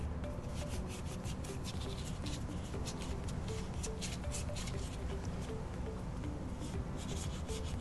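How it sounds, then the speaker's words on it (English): Hand sanding of a wheel rim protector gives steady, close scratchy rubbing in quick repeated back-and-forth strokes that continue without a break, with no talking. "we're just going to sand this back just a tiny bit"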